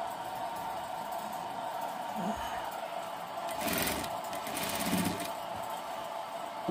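Sewing machine running steadily while stitching the fabric body of a 30-inch full-size umbrella, a continuous close mechanical whir with slight surges in intensity.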